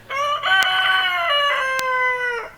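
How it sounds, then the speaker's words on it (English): A rooster crows once nearby, a loud, drawn-out cock-a-doodle-doo with a rising start and a long falling tail, heard alone against a quiet background with two faint clicks. "Chicken says amen."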